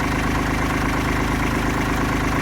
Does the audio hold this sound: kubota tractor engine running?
yes